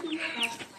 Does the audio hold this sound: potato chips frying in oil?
no